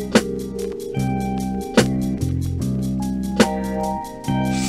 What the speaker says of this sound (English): Instantly, you can hear a lot of clarity in that snare now compared to what it was before.